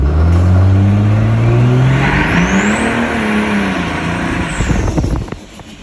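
A 2,500-horsepower Cummins Mega Cab diesel truck accelerating hard, its loud engine tone rising steadily with a high turbo whistle sweeping over it, then easing off and fading at the end.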